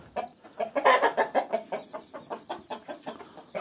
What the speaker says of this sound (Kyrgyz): Тооктор.